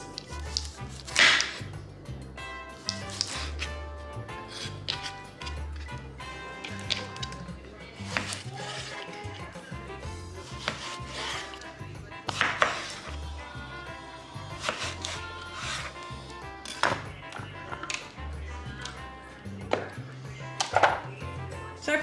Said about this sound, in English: So I put about that many tomatoes in and start chopping.